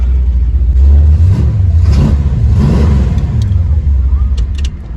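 A 1971 Dodge Charger Super Bee Mopar V8 revs loudly and close by in a steady, heavy rumble that surges and falls, with no other sounds.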